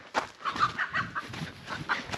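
A hen clucking in quick, uneven bursts, close by, with some background rustle and noise.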